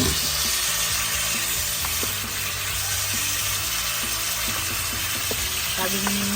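Chicken frying in a pan for chicken afritada, a loud, steady close-up sizzle with occasional stirring clinks and faint low background hum.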